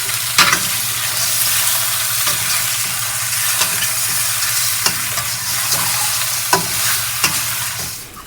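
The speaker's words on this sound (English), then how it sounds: "Quickly stir the ginger and garlic into the mushrooms before they dry up." Dried mushrooms stir-fried with garlic and ginger in a pan, a steady sizzle with a low hum beneath and sharp scraping clicks of the spatula at irregular intervals.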